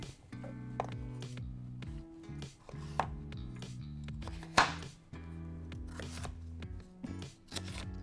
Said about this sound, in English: A quick chop.